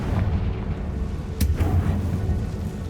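A Confringo blasting spell goes off in Hogwarts Legacy as a single sharp burst over a low rumbling game backdrop.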